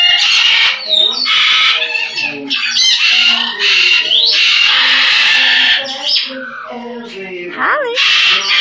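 Macaw parrots squawk loudly and repeatedly at close range, harsh raspy calls in bursts, with brief gaps between them.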